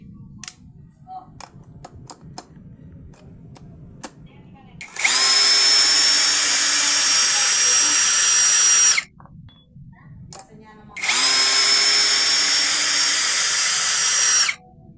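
A Keelat cordless drill running in reverse to back out a screw, two loud whirring bursts of about four seconds each, separated by quiet handling clicks and brief talk.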